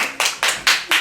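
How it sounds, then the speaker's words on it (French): People applaud for Arthur in four loud, sharp bursts of clapping spaced about a quarter second apart, close by. "Merci Arthur, on peut applaudir."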